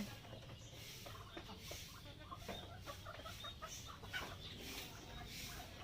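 A brooding hen clucks softly in a rural yard, giving low repeated clucks at close range over faint background noise and mechanical sounds.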